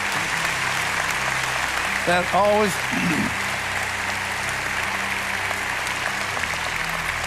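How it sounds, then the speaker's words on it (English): Church congregation applauding steadily through the whole stretch, moderate and diffuse, while someone speaks briefly over it partway through. "That always elicits applause because we respect that."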